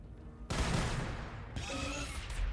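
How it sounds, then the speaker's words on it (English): Grenades exploding in the video game Warhammer 40K: Battlesector, a sudden loud blast that rolls into sustained rumbling explosions and crackling debris, with a second burst layered over it near the end. "And by rocket punch, I mean grenades."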